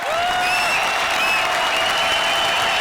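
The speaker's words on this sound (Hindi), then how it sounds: "जोर की ताली बजाइए" A studio audience at a comedy show breaks into loud, sustained applause for the judges, dense clapping with a few whistles on top, filling the short stretch without talk.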